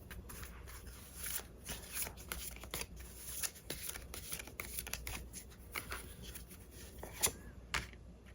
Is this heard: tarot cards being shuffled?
yes